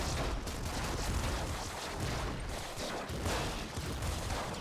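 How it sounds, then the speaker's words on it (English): Rapid, dense gunfire from a double flame shotgun in the video game Nuclear Throne, with bursts of blasts running continuously and loudly through the whole stretch, no voices over it. "This double flame shotgun is really carrying us here."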